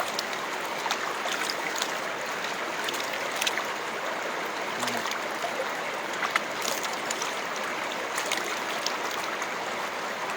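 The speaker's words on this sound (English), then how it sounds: "This river is still in its purest form before reaching down that side to more of population" A pure mountain river in a valley in Uttarkashi flows steadily, filling the scene with a constant close rushing and gurgling of water and no voices.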